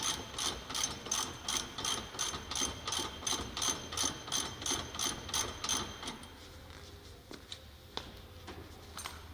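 A ratchet tightening a part, a fast, even series of sharp metallic clicks for several seconds, followed by slower, quieter scattered clicks as the turning eases off.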